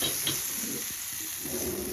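Cumin seeds and Kashmiri chili crackle and sizzle in hot oil as a tempering for raita, a steady close hiss with small pops and stirring scrapes.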